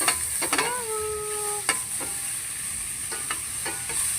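Tomatoes sautéing in a pan for Filipino ginataang tuna with coconut milk: a steady close sizzle with a few sharp stirring scrapes and utensil clinks, and a brief rising whistle-like tone near the start.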